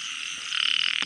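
Small frog croaking at night in Thai countryside, several short croaks rising over a steady insect chorus, close and fairly loud near the end.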